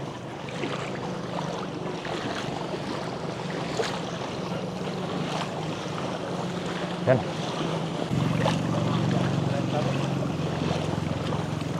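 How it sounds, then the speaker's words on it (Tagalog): Boats move through flood water in Pampanga, a low engine hum and water wash under wind noise that grows louder and steadier near the end. A person speaks briefly. "So karamihan kasi mga bangka dito guys, papunta sa kabilang barangay."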